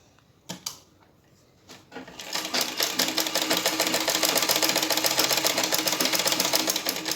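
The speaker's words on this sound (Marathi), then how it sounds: "याच्या दोन बाजू शिवून घ्यायच्या आहेत आणि एक बाजू ओपन ठेवायची आहे" A sewing machine stitches blouse fabric. A few clicks and thumps come first, then the motor starts into a fast, steady, rattling needle run that stays loud and close, with no talking.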